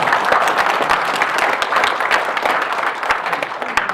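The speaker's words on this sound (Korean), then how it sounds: "다시 한번 뜨거운 박수 보내드리겠습니다." An audience applauds warmly at an indoor forum for the 100th anniversary of the March 1st Movement. Many hands clap in a dense, sustained burst that fills the room and stays loud until it tapers at the end.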